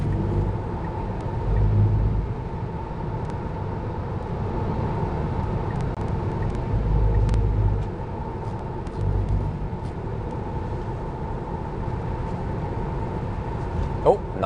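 Tesla Model 3 Long Range with an 82 kWh battery cruising and overtaking on a highway toward the Arctic Circle: a steady close road and wind rumble with a constant tonal whine, swelling briefly mid-pass, while people talk over it.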